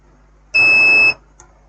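A multimeter in continuity mode gives one loud, steady half-second beep while probing the 12 V DC input circuit of a Super Star SI 300VA inverter for a short, followed by a faint click.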